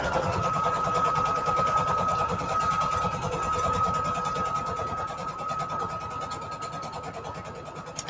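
A sewing machine stitches down the sides of a paper ribbon, running steadily with a close, continuous motor hum and rapid mechanical needle chatter from start to finish, alone without talk.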